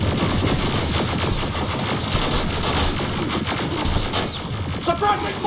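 Rapid automatic gunfire in Terminator: Resistance, dense continuous bursts of machine-gun fire layered with shots, loud and close throughout with scattered mechanical clatter.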